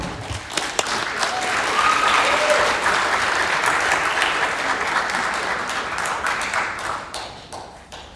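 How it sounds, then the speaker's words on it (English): A festival crowd at a Pasifika stage event applauds a student performer with sustained, dense clapping that swells early, holds steady for several seconds, then gradually thins out. A brief whistle cuts through near the start. "Another round of applause, ladies and gentlemen"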